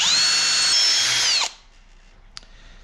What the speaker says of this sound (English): All right, make this hole a little bit larger.